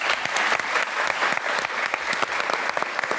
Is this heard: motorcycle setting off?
no